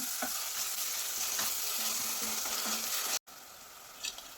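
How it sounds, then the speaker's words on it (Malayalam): Ingredients for a Kerala-style Malan fish mulakittathu curry sauté with salt in a pan. A steady close sizzle runs under repeated stirring scrapes, then cuts out briefly before quieter sizzling and a small clink. "ഇതൊന്ന് വഴന്ന് വരട്ടെ"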